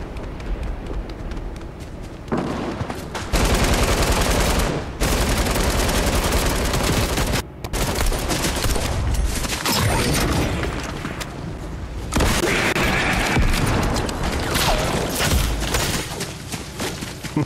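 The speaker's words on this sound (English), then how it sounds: "Pumpkin launcher." Pumpkin launcher fired in the video game Fortnite, heard as dense, loud, booming explosive blasts and rapid gunfire-like bursts running continuously with brief drops between volleys.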